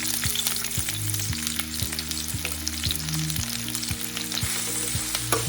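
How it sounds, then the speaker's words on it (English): Sliced onions fry in hot oil in a pan, giving a loud, continuous sizzle with crackling spits throughout, close up and alone, under a faint steady background tone. "So let's start by heating some oil in a pan to fry some sliced onions."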